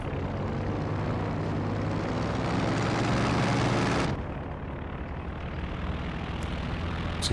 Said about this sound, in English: And come planes.